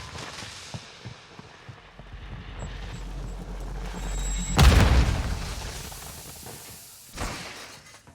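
A thermite grenade bursts in Modern Warfare 2, a low rumbling build followed by a sudden loud boom and crackling burn that fades out, with a second thud near the end.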